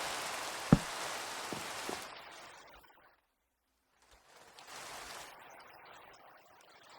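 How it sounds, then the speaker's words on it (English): Rain falls in a block-building video game as a soft, steady hiss with one sharp knock early on, then it cuts out to near silence before returning more faintly. "Oh, and it's raining."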